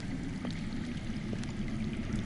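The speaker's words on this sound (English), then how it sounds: "I hear water. From underground." Steady running water echoes from somewhere underground in a Telltale Game of Thrones scene, a continuous pouring, trickling stream that holds an even level throughout with no voices over it.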